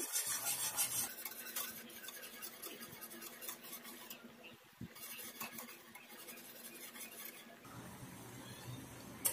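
A spoon scrapes and clinks steadily in a pan of melting china grass for jelly candy, quiet and close, with soft rhythmic stirring and no talk.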